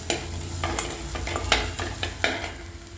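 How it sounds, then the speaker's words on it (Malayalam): Ginger garlic paste fries in hot oil with popped mustard seeds for a ripe bitter gourd pickle, giving a steady close sizzle broken by scattered sharp crackles and stirring clicks. "കടുക് നന്നായിട്ട് പൊട്ടി പിന്നീട് നമുക്ക് ഈ ഇഞ്ചി വെളുത്തുള്ളി പേസ്റ്റ് അതിലേക്ക് ഇടാം"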